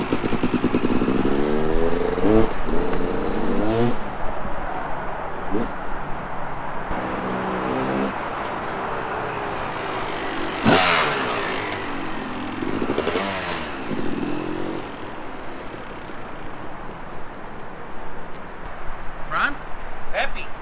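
A freshly built Yamaha YZ250 two-stroke dirt bike blips its throttle repeatedly, the revs rising and falling in sharp bursts over a constant idle rattle, loud and close, with voices talking now and then beneath it.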